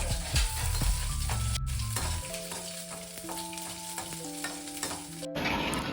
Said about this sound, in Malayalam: ചിക്കൻ മസാല ഇങ്ങനെ തിളച്ചുകൊണ്ടിരിക്കുന്നുണ്ട്.